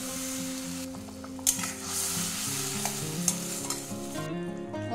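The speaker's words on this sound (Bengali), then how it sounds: "একটু ভেজে নেব যতক্ষণ না তেল ছাড়ছে, এটা ভাজতে হবে।" Potol paneer masala frying in hot oil, a loud, steady sizzle close by with occasional spoon scrapes and knocks against the pan, while music plays underneath and no one speaks.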